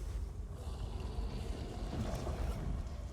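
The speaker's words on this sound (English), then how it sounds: "Follow a rat, you wind up in a sewer." Ambience of a sewer in Elder Scrolls Online, a dim, steady rumble with faint watery, windy washes and a few soft swells, continuous and unbroken by voices.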